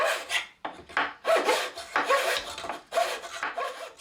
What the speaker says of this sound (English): Here I'm using a bastard file